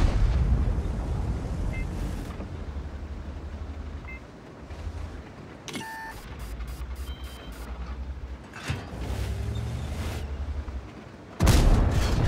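A tank cannon shot in a World of Tanks-style battle on the El Halluf desert map, striking a Bisonte C45 turret with a sharp metallic crack and boom over steady engine rumble, followed by further heavy blasts.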